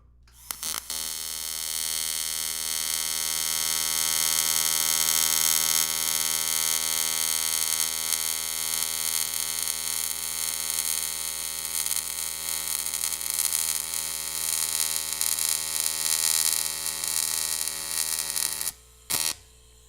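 TIG welding of an aluminum turbo pipe, a steady high buzzing arc hum with tonal whine lasting nearly twenty seconds before cutting out in short bursts at the end.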